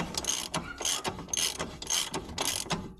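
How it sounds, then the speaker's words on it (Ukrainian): A ratchet wrench with a 12 mm socket clicks rapidly in repeated strokes, tightening bolts on the front suspension of a Daewoo Lanos 1.6, loud and close with no talk. "закручую тут зверху ключ на 12, а знизу ловка на 12"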